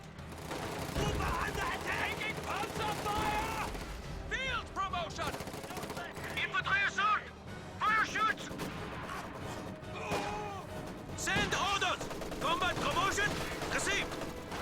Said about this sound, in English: MG-34 firing at these squads of conscripts, and they will be forced to retreat right there.